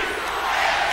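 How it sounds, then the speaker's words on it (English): Ateneo Blue Eagles fans roar at a 2001 UAAP Finals basketball game against La Salle, a loud, sustained crowd cheer that fills the whole moment with no single voice standing out. "Listen to the cheer of the Blue Eagles, Nico."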